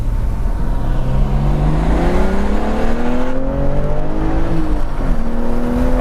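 A 2021 BMW M3 accelerates hard on a race track, heard from outside as a loud, close engine note climbing steadily in pitch through the gears, with a short dip at a gear change.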